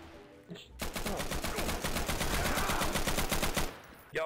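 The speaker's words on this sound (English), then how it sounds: "They're firing upon us." Rapid automatic gunfire in Garry's Mod roleplay, a sustained burst of evenly spaced shots lasting about three seconds after a single earlier crack, fairly loud and near.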